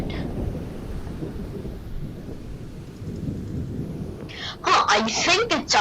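Steady low rumble of thunder during a thunderstorm with possible tornado, continuous and fairly loud, with rain noise, and a voice speaking briefly near the end.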